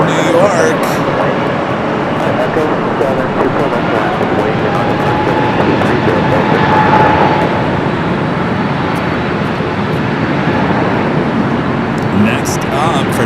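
A jet airliner at LAX rolls out for takeoff, a broad continuous engine roar that holds steady and loud for the whole stretch, with voices heard faintly in the mix.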